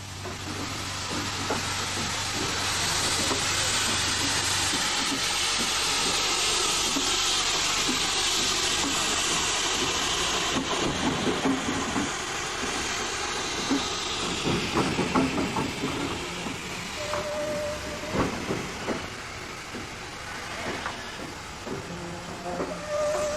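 An 1893 LSWR Class B4 0-4-0 tank steam locomotive, once a Southampton docks shunter, hisses steam loudly and steadily over a low engine rumble, with clanking and brief whistle-like tones toward the end.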